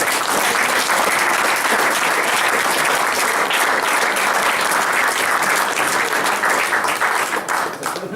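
Sustained, dense audience applause at a billiards championship prize ceremony, loud and even throughout with no break.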